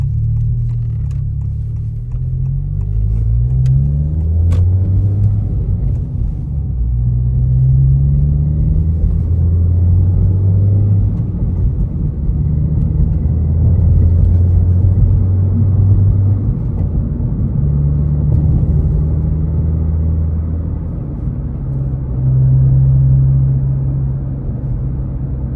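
A 2023+ Honda Civic Type R FL fitted with an HKS Hi-Power catback exhaust drones with a deep, steady rumble, repeatedly revving and shifting through gears, loud and close with no talking.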